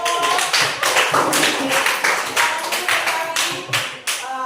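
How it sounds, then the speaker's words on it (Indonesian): A classroom group gives a short burst of applause for four student groups, many hands clapping at once, loud and close, with a little voice mixed in. "Jadi kita berikan aplaus untuk keempat kelompok"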